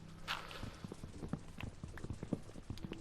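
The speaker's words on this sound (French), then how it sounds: "Putain, ils ont vraiment un bruit de chiotte les lapins" Rabbits hop and run in Minecraft with a series of soft, irregular padded thumps like small footsteps, fairly quiet and close, with no talk over them.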